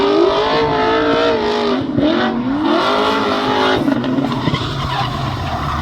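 A 1000 hp Nissan S15 with a 3.3-litre 2JZ engine and nitrous drifts close by, its engine revving hard and rising and falling through shifts, with tyres squealing continuously.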